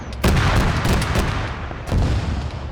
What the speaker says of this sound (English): Tigris is now firing at him.